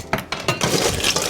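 Fresh ice cubes drop into a rock glass with a few quick clinks and rattles, then a short settling clatter, close and moderately quiet with no talking.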